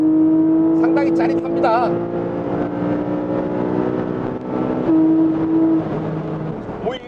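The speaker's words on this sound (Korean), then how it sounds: "스포츠 배기 시스템을 작동하고 있어서 엔진 사운드가" Porsche 718 Boxster GTS 4.0 with its sport exhaust engaged, a steady engine drone with a rising and falling pitch while driving, heard continuously beneath someone speaking Korean.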